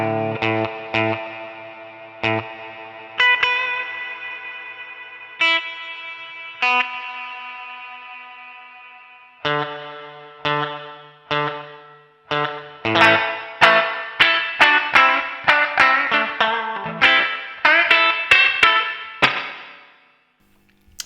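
An electric guitar played through the reverb effects of a NUX MG-300 modeling processor, starting with sustained ringing chords that decay into long reverb tails, then moving to faster picked notes and strums, loud and close with no talking.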